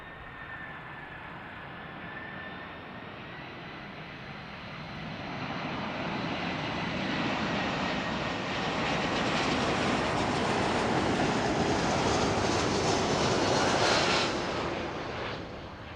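At Zurich Airport, a jet airliner powers up for takeoff, a broad roar that swells steadily and peaks near the end, a high whine riding above the rumble, then begins to ease off.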